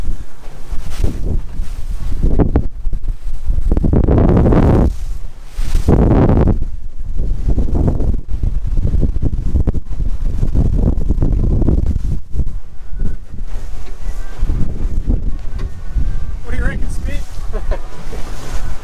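Strong wind blows across the water at Barwon Heads, roaring steadily into the microphone along with surf and choppy water, loud and continuous throughout.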